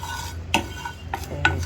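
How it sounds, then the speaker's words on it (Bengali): Panch phoron and cumin seeds dry-roasting in a pan for singara filling, heard as soft scraping stirs and a few light clinks of a spoon against the metal over a faint steady hiss, close and quiet. "এই পাঁচফোড়ন আর জিরাটাকে হালকা একটু টেলে নিব"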